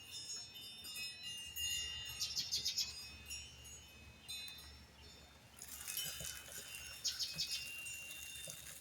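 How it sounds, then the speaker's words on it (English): Faint bird chirps twitter in two short bursts against a soft outdoor background with light wind, distant and light, with no voices. "Hear the birds."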